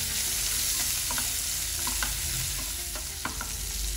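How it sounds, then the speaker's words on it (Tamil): Cauliflower frying in a pan with coriander powder and salt, a loud, continuous, close sizzle with light stirring taps scattered through it and no talking. "இது நல்லா ஃப்ரை பண்ணி எடுத்துடலாம்."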